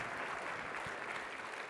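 Audience applause, a steady, fairly faint wash of clapping that holds evenly throughout with no voices over it.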